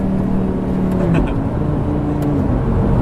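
A Lamborghini Gallardo engine pulls hard in third gear from inside the cabin, a loud, steady rising drone that stays continuous throughout with no talk over it.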